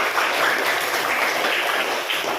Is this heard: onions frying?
no